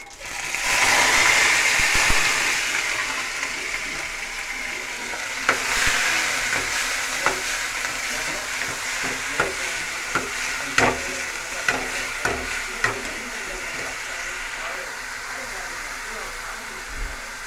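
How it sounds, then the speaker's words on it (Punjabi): Cumin, chilies, ginger, garlic and onion fry in very hot oil for paneer kofta, giving a loud steady sizzle with repeated sharp clicks of stirring, while a person talks over it. "ਜੀਰਾ ਤੜਕ ਗਿਆ ਜੀ ਬਹੁਤ ਗਰਮ ਆ ਜੀ ਤੇਲ ਇਹਦੇ ਵਿੱਚ ਮਿਰਚਾਂ ਜੀ ਆਦਾ ਜੀ ਲਸਣ ਜੀ ਪਿਆਜ਼ ਆ ਜੀ"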